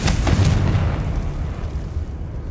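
Confringo spell blast in the Hogwarts Legacy video game: a few sharp, loud bursts up front give way to a heavy low rumble that slowly fades.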